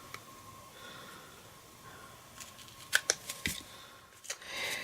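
Scissors snip through paper while trimming a slimline card, a cluster of short crisp cuts close by over a faint room hiss, with a final longer rustle at the end.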